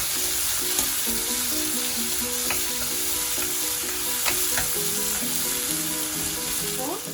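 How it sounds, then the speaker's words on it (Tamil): Onions frying in hot oil for drumstick sambar, a steady close sizzle running throughout with occasional light stirring clicks and no talk. "வெங்காயத்தை போட்டு வெங்காயம் நல்லா தாளிச்சிடலாம்."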